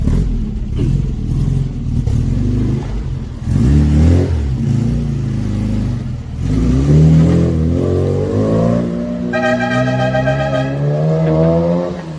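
A classic Mini being restored, back on the road after 12 years, revs its engine repeatedly, the pitch rising and falling in loud close sweeps with a higher whine near the end.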